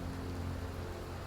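Steady broadband rain hiss from the video game Skyrim, with a low constant hum underneath, filling the whole moment evenly without any voices.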